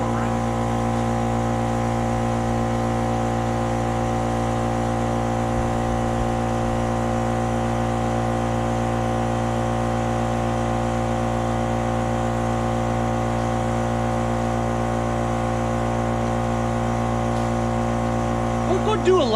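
A Craftsman LT2000 lawn tractor engine runs at a steady idle-like drone while being driven around, a continuous close hum with constant loudness and a brief clatter near the end.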